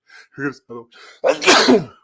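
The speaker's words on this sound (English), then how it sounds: "Another sneeze, sorry." A person's breathy build-up of short catches, then one loud, explosive sneeze, close to the microphone.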